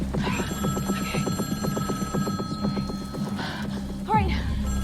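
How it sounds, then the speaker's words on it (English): A telephone inside a phone booth rings with a rapid, steady run of bell strikes that repeats, loud and close, in an escape room game show. "They want us to answer the phone."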